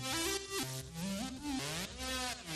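Bright layered synth lead of three stacked preset leads plays a stepping melody, dense and buzzy with stacked tones, continuous and fairly loud.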